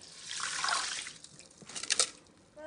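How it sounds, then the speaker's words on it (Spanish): Water is poured into a pan of washed rice, a bright splashing gush that swells, fades, then returns briefly, heard alone without talk. "lo echamos en el sartén y le vamos a echar agua"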